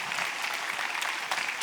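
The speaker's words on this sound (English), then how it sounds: "Please, a big round of applause." Brief, soft audience applause at a cybersecurity conference plenary session, an even patter of many hands heard at a distance.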